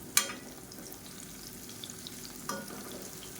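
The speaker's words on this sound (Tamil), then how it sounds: "இப்போ வாழைக்காயை சேர்த்துட்டு நல்லா ஒரு நிமிஷம் ஆயிடுச்சு இப்போ திருப்பி விட்டுக்கலாம்" Raw plantain slices fry in hot oil in a pan, giving a steady, moderate sizzle close by, with a couple of sharp clinks of a utensil as the pieces are turned, and no talking.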